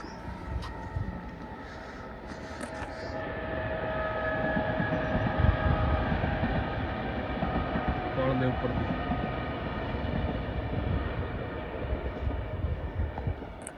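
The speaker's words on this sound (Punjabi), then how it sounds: "ਤੇ ਅੰਦਰ ਟ੍ਰੇਨ ਲੰਘ ਰਹੀ ਆ" A train rumbles past at a distance in an open coastal village setting in Punjab, a steady low roar that swells gently and lingers throughout, with a person speaking over it.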